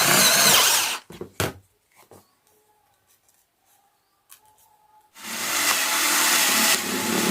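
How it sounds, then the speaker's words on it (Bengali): A power tool cuts through PVC pipe, making a loud buzzing whine for about a second. Short clicks and handling taps follow through a near-silent pause, then the tool starts again with a steady, loud whirring run. "তো আমি এখানে পাইপের 2টা টুকরা করে নিচ্ছি"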